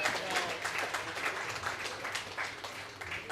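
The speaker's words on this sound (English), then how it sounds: "can we have a huge round of applause for all the participants" A crowd of guests applauds participants at an inauguration event, a continuous fairly soft patter of many hands clapping, with some background voices mixed in.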